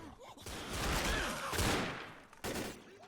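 Pistol fire in Left 4 Dead, a dense run of overlapping shots and in-game action lasting about three seconds with no speech.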